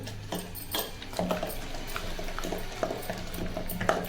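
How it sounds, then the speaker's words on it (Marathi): Cooked taro leaves are mashed in a pot with a wooden churner, giving soft repeated wet squelches and light knocks against the pot in an uneven rhythm, close and fairly quiet. "ह्याला गरगटून घेऊया रवीच्या साह्यानं"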